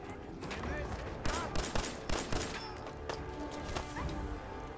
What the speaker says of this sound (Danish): jeg bliver skudt på